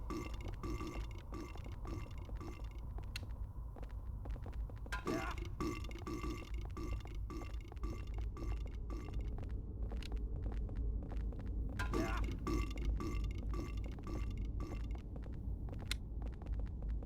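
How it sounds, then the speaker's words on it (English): Burping nurse enemies in Silent Hill 4: The Room give repeated guttural belching sounds in short bursts over a low ambient hum, with occasional thuds between them. "This is where the burping nurses really get their time to shine."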